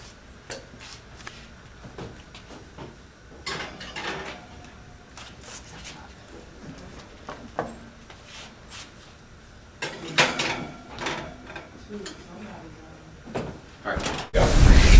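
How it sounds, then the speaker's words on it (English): An oven door is handled as cupcakes go in, with scattered knocks, clinks and soft clatters over a quiet room, ending in one loud, close thud. "we'll put them in the oven for 18 to 22 minutes"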